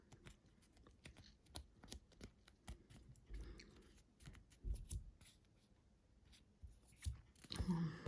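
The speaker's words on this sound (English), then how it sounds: "Then I just took the scissors and cut the bus into his shape." Scissors snip through paper while a school bus shape is cut out for a pop-up card: a series of faint, crisp clicking cuts at an irregular pace, close by and quiet, with a slightly louder rustle at the end.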